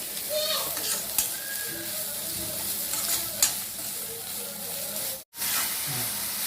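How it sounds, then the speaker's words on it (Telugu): A salted beetroot mixture for beetroot rice is stirred as it fries in a pan, with a steady close sizzle and hiss and occasional scraping strokes of the spoon, briefly interrupted near the end. "ఉప్పు వేసుకుని బాగా కలుపుకోవాలి."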